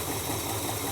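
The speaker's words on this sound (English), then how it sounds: "there are one or two interesting noises coming from this engine, but generally it sounds acceptable" A classic American muscle car engine fitted with an Edelbrock carburettor and manifold runs steadily, a close, loud, even rumble with a rhythmic pulsing throb and no speech.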